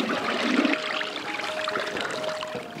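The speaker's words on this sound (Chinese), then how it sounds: "沉淀一晚上，倒水取饭。" Water poured off starch from yam that has settled overnight in a basin, heard as a steady close pouring and trickling for under three seconds, with no voices.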